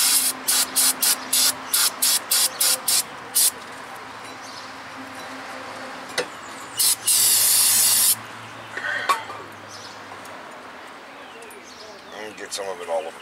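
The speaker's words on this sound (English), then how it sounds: "We got a good spray down with brake cleaner." Short bursts of brake cleaner aerosol hiss in quick succession onto the brake piston and rotor of a 2007 Nissan Altima, followed by a longer continuous spray, with quieter clanks and shuffling in between.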